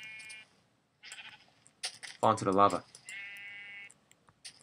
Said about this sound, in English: Get out of here, sheep.